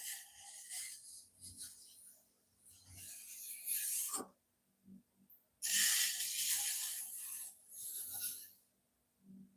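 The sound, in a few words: tool cleaning up the bottom of a clay pot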